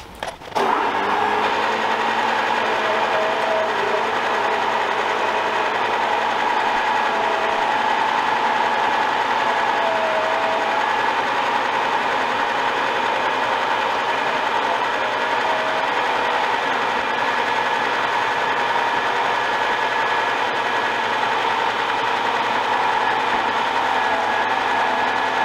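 A milling machine cuts metal for a barrel clamp on a Nashorn Pak 43/41 cradle, a continuous dense grinding whir with steady tonal hum, loud and unbroken throughout, its pitch raised by sped-up playback.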